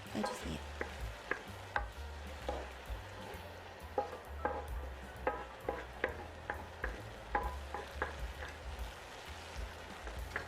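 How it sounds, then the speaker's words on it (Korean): Tomatoes are stirred in oil in a pan with scallion, garlic, sugar and salt. A quiet, regular tapping and scraping of the utensil sits over a soft sizzle and a low hum. "가볍게 섞으면서 토마토에 기름 코팅을 해주고 설탕과 소금을 넣어서 2분 내로 가볍게"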